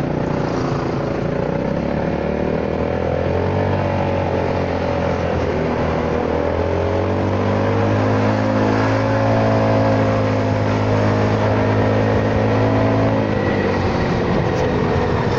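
A Honda Forza 300 scooter with a quiet aftermarket exhaust, heard on the move with a steady low engine hum whose pitch rises and falls gently as the throttle shifts, plus wind noise.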